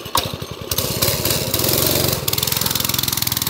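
A mini bike's small engine revving loud and close, sputtering at first, then settling into a steady rapid putter with a rhythmic pulsing toward the end.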